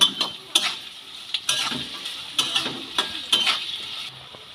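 Chopped onion, green chilies and mixed vegetables are stir-fried in a pan for a spicy semolina upma. Rhythmic spatula scrapes and clatters sound close over a steady, gentle sizzle.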